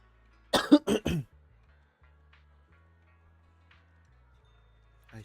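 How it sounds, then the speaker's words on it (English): Three quick coughs in a row, close and clear, then near silence with faint ticking sounds in a quiet room during a game session. "the cough is pretty peak"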